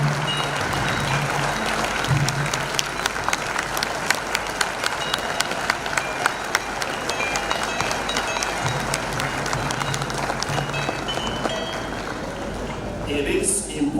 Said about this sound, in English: Together, let us give him a resounding clap